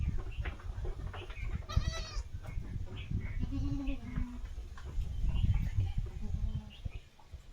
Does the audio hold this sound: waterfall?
no